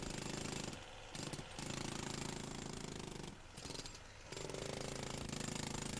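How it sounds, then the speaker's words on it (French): A jackhammer breaks away poor-quality concrete at the head of a foundation pile on a masonry site, hammering loudly in long continuous bursts with two short pauses. "Le recépage est effectué avec le marteau-piqueur."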